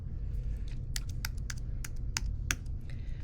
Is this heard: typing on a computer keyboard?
yes